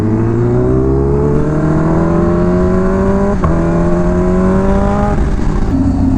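A Ninja H2R or Bimota Tesi H2 motorcycle pulls away in second gear, its engine note climbing steadily and loud through a long rise, with a brief break partway before climbing again.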